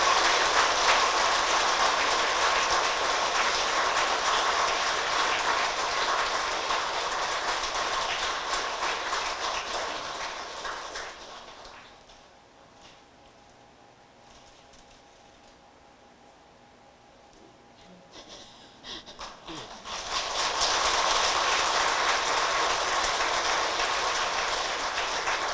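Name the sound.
audience applause at a Buddhist ceremony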